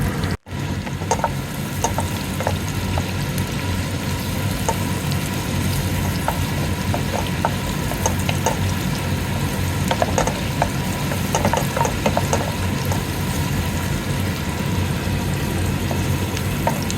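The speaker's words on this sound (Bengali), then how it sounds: "সেই পেঁয়াজ কুচিটা আমি এখন ঘিয়ের মধ্যে ভালো করে নেড়েচেড়ে ভেজে নিব।" A handful of chopped onion fries in ghee under steady stirring, a constant dense sizzle that never lets up, dotted with light repeated scrapes and clicks of the spoon against the pan and a brief dip right at the start.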